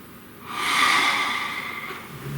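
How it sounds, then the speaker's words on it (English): A single slow, deep breath drawn in and let out during a calm guided meditation, a soft airy rush that swells and fades over about two seconds, close and alone with no talk. "Please take a nice deep breath."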